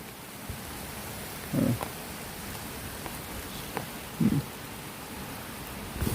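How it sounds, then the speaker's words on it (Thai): Steady rain falls outdoors in Thailand, a dense continuous hiss of drops on surfaces, with a couple of brief louder thuds standing out over the downpour. "ตกแล้วตกแล้วฝนเนาะ"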